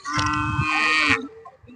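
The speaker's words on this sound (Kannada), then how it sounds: "ಭಾಳಷ್ಟು ಎತ್ತುಗಳು ಬಂದಿದೆ ನೋಡಿ" An ox gives a single loud, close, drawn-out low lasting about a second at the Aigali cattle fair in Karnataka, then fades back into quiet background noise.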